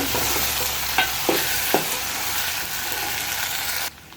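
Taro root (chamagadda) frying in a pan with tamarind, a constant oily sizzle with a few sharp scraping knocks of a spatula as the pieces are stirred, close and without voices.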